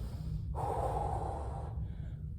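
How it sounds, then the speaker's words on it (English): A long, deep exhale through the nose during a yoga-style breathing exercise in a no-equipment home workout, steady and close, set over a constant low hum without any talk. "Once again, that deep yoga breathing."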